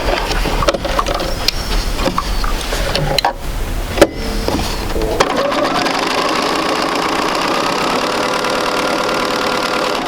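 A sewing machine stitches through fabric in a basic sampler quilting class, its steady mechanical whir running close and continuous, with some brief handling noises and a short stop before it settles into an even hum.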